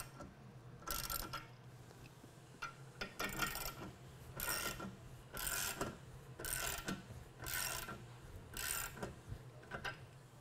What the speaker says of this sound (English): So when you start jacking on the jack bolt, the plates are going to cantilever back